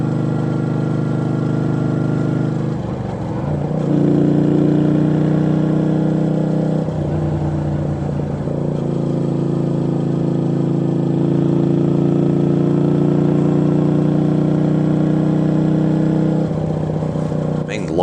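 A Yamaha V-Star motorcycle rides through a long right-hand bend, its engine holding a steady, smooth drone with a brief dip and rise, mixed with wind, while a voice talks over it much of the time.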